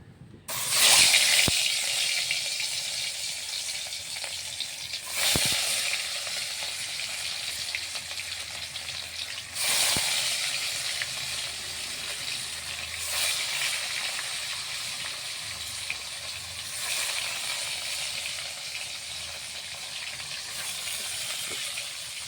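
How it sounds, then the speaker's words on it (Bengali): Fish frying in hot oil, with a steady close hiss and sizzle that runs the whole way through, swelling in bursts every few seconds, with no talk. "তেলটা গরম হবে, তারপর মাছগুলোকে আমি ভাজতে পারবো।"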